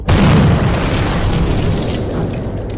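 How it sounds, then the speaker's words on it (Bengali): A loud boom bursts in suddenly and rolls on as a sustained, heavy rumble, a dramatic explosion sound effect set in a Bengali village ghost story after a cursed idol is dropped into aqua regia. "এক বিশাল বিস্ফোরণের শব্দে কানে তালা লেগে যাওয়ার জোগাড় হলো"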